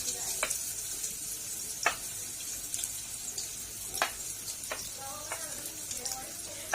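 Onion going into a pan of melted ghee, a base for macaroni béchamel with minced meat: a soft hiss of frying with scattered sharp clinks and scrapes of a utensil now and then.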